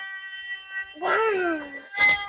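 A cat on a farm gives one drawn-out, falling meow up close, preceded by a faint steady tone and followed by a short noisy burst.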